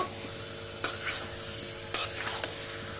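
Boiled potatoes for aloo dum stirred and sautéed in a pan, a faint background sizzle broken by three sharp scraping stirs with the spoon.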